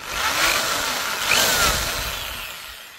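A power drill whines steadily, rising slightly in the middle as it bores into a curtain rod, then easing off toward the end.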